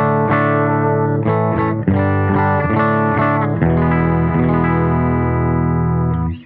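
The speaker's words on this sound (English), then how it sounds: "I have a McGinney guitar, Skylike here, and I am running into a Silk Tone amp." A McGinney Skylike electric guitar through a Silk Tone amplifier, loud and close, strumming a series of ringing chords with a light shimmering effect and slight echo.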